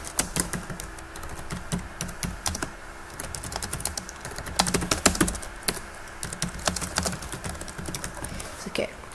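Typing on a computer keyboard while a sentence is entered into a Weebly page, steady clusters of key clicks running throughout under faint background noise, with a voice speaking softly at times.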